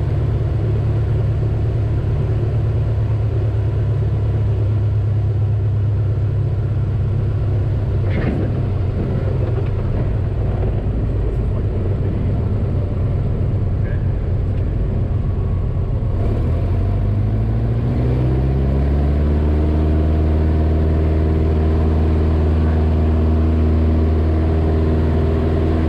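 A Luscombe tailwheel airplane makes a three-point landing, its steady engine drone and rumble running throughout, then the tone shifts and drops as power comes back and the wheels roll out near the end.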